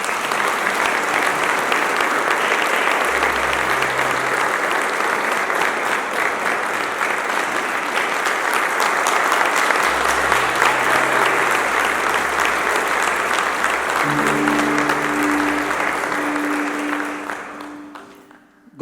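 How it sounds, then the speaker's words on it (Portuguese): Sustained applause from a church congregation during a communion service, steady and full for most of the stretch with a low hum underneath, then tapering off quickly at the end. "Uma salva de palmas para Jesus."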